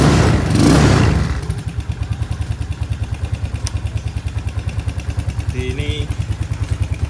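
An upgraded carbureted Yamaha Mio scooter engine with an opened-up exhaust fires up from a loud starting burst, then settles into a steady, rapid idle putter, with a short blip of revs near the end.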